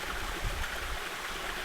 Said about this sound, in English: enjoy the sound of a waterfall, the creek rushing by